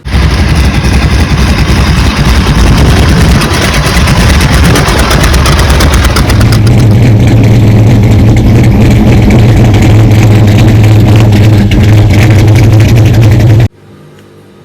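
A car engine fitted with a performance camshaft idles near 500 rpm, close and very loud. Its uneven, choppy lope pulses in a rough rhythm under a steady drone that deepens partway through, then cuts off abruptly.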